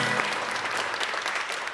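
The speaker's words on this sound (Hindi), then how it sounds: "इसमें तालियां बजनी चाहिए।" Studio audience applause on a television talk show, a dense steady wash of many hands clapping at close range for the whole moment, with no voices over it.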